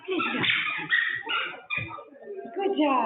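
A police detection dog in training gives a run of sharp barks, yips and whimpering whines, close and loud, in uneven bursts, while a handler speaks nearby.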